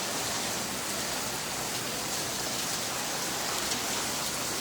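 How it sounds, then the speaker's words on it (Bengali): Rain falls in a steady, dense hiss, continuous and close throughout with no voices. "বৃষ্টি উপভোগ করুন সবাই"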